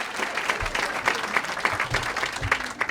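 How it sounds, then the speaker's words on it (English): At an author's talk, the audience breaks into lively applause, a dense patter of clapping with soft thumps and crowd murmur, sustained and even for the whole few seconds. "then I will pause for your spontaneous applause"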